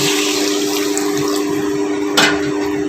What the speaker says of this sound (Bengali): এবার দেব সামান্য পরিমাণে জল